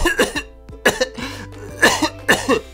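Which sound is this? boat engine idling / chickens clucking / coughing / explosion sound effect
coughing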